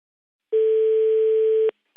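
A single long steady telephone ringback tone on a French line, lasting just over a second, followed by a brief click as the call connects.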